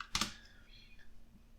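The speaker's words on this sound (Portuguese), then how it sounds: "Estou digitando tudo errado hoje." Quick keystrokes on a computer keyboard while coding: one sharp double click up front followed by soft faint tapping, close and quiet, with a low murmur of voice underneath.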